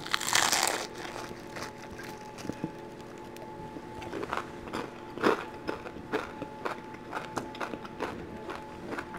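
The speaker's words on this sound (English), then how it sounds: "So I wanted to try the crunchy crispy one. This is the deep fried shrimp dumpling." A crunchy deep-fried shrimp dumpling at a dim sum meal is bitten once loudly up close, followed by a run of crisp crackling crunches and chewing, without talk.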